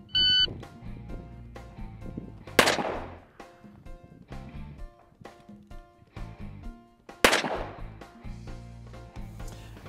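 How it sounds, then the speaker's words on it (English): Two sharp, loud gunshots about five seconds apart at a Birchwood Casey self-healing target on a shooting range, each followed by a ringing decay, with softer background clatter in between. "the objective was to shoot it out of the target in the least shots that you could"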